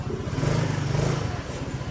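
An RFI 175 motorcycle engine runs close by at a steady, fairly quiet idle, a low, even pulsing drone with a slight rise in the middle.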